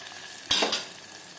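Spices being fried and stirred in a pan while mutton cooks: a soft background sizzle broken by two sharp scraping stirs of a utensil against the pan, close by.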